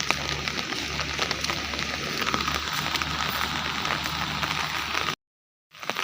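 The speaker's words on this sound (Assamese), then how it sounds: "বৰষুণ দি আছে দিয়া আছে মানে চিপকৈ নহয় অলপ ডাঙৰকৈ দি আছে" Heavy rain drums on an umbrella in a steady, dense patter close overhead, continuing evenly before cutting out abruptly near the end and briefly returning.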